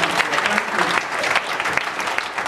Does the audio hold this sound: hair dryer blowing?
no